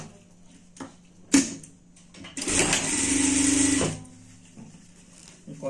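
A sewing machine stitches the seams of a pet Christmas hat with ear openings, running in one loud, close, steady burst of about a second and a half between quieter handling clicks, with someone talking around it.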